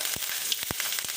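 Hot oil sizzles steadily, with a few quick crackling pops as mustard seeds hit the pan.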